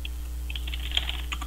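Fingers type a search on a computer keyboard, a quick, close run of light clicking keystrokes in an irregular rhythm over a steady low electrical hum, with no talk.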